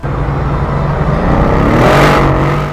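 A 2014 Mercedes-Benz E63 AMG-S's 5.5-litre twin-turbo V8 revs hard and close, its loud roar swelling toward a peak near the end before easing off.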